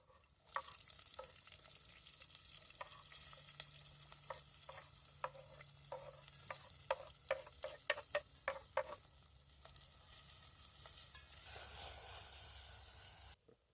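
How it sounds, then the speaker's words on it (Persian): Onion sizzles in hot oil in a pan over an outdoor fire while it is stirred, a quiet bed of frying hiss broken by a run of sharp clinks and scrapes, with no talking. "روغنمون که داغ شد پیاز رو بهش اضافه میکنیم."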